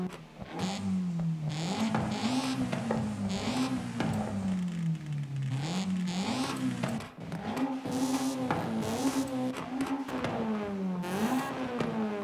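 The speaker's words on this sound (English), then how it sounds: "the stock exhaust sounds the best" A B16-swapped Honda CRX on its stock exhaust revs repeatedly in Forza Horizon 5, its engine note climbing and falling in a loud, continuous rise-and-drop pattern with sharp high-rpm peaks and no talk over it.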